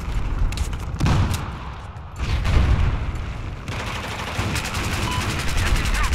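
Rapid automatic gunfire and bursts in a Battlefield 4 multiplayer match, loud and dense with heavy low booms throughout, shots rattling in quick strings over continuous battlefield noise.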